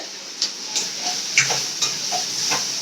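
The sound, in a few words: onions sautéing in a pan for mutton gravy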